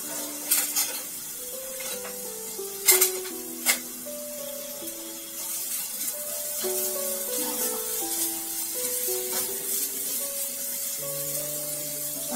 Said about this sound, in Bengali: তো আমি পেঁয়াজটা আগে হালকা একটু ভেজে নেব।